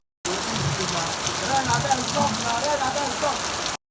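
Steady rain pouring down outdoors, a dense continuous hiss and patter that stays loud throughout, with a scattering of sharper drop hits on surfaces.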